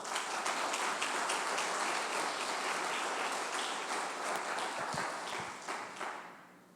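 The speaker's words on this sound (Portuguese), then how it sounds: "As palmas para Ele." Loud, sustained applause from a large church congregation, dense clapping that holds steady before tapering off at the end.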